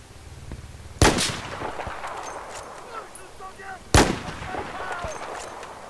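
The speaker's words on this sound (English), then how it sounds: "I'm getting shot at, by the way." Gunfire in the Battlefield 4 video game: two sharp, loud shots around the first and fourth seconds, each with a ringing echo, against a busy backdrop of battle noise and scattered smaller pops.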